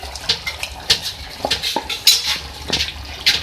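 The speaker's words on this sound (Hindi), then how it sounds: "अब इसमें फ्राई की हुई जो भिंडी है मैं उसमें वो ऐड कर रही हूँ।" Fried okra tipped into a pan of soft potato-eggplant curry and stirred: a spoon clanks and scrapes against the metal pan in irregular, close, fairly loud knocks over a low simmer, with no voices.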